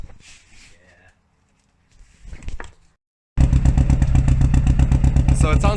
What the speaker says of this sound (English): So it sounds like she's only running on 3 cylinders